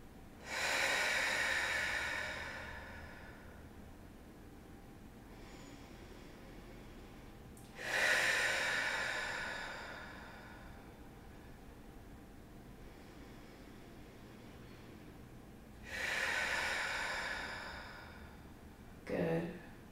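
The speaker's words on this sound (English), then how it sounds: "Deep breath in and exhale." Three slow, deep breaths in and out during prenatal yoga, each an airy hiss that swells and fades, spaced about eight seconds apart, close and quiet, with a short sharp inhale at the end.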